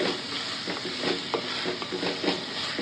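Green chillies going into a frying pan of egg gravy, a steady sizzle of frying oil with a few soft stirring knocks over it, close up and without talk.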